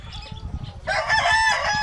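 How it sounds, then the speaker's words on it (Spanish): A yellow rooster crows loudly and close, one sustained call rising after a quieter stretch of low rustling and faint background fowl sounds. "Mis gallos amarillos."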